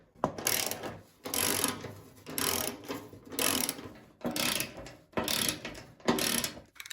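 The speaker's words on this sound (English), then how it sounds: "take the 3 bolts out of each side so I don't paint over the bolts" Ratchet wrench cranking bolts out of the side of an old Craftsman 9 HP snowblower, heard as six bursts of rapid clicking, each about half a second to a second long with short pauses between, close and fairly loud with no talking.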